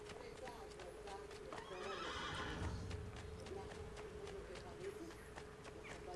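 A horse whinnies and clip-clops in the city streets of Assassin's Creed 2, hooves beating in a steady rhythm while a neigh rises midway, with game ambience and faint voices around it.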